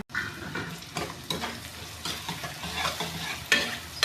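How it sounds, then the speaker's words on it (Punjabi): Green chillies are stirred in a hot pan with peas while cooking salted rice, steady sizzling broken by repeated scraping strokes of a spatula against the metal, close and fairly quiet, with no talking. "ਮਿਰਚਾਂ ਵੀ ਪਾ ਦਿੱਤੀਆਂ ਨੇ ਵਿੱਚ"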